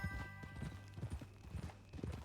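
In Red Dead Redemption II, a horse's hooves clip-clop in a steady, even walking rhythm over a low ambient hum, with each hoofbeat close and distinct.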